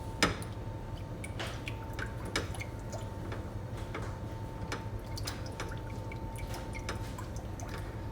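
A spoon stirs thickening, cornstarch-thickened sticky sauce for baked chicken wings, giving soft wet drips and squishy clicks scattered over a steady low hum, fairly quiet and close.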